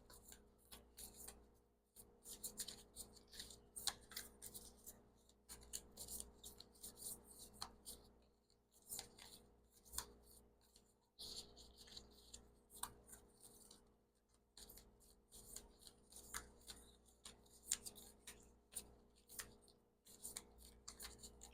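Tarot-style cards are shuffled quickly and chaotically, giving faint, rapid riffles, snaps and papery slides in irregular bursts over a quiet room, with short pauses between handfuls.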